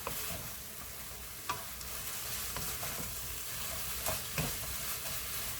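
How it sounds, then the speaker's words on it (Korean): Pork and bean sprouts stir-fried together in a pan, a steady soft sizzle with occasional scraping and stirring strokes, close but fairly quiet. "섞어가면서 콩나물하고 같이 볶아줍니다."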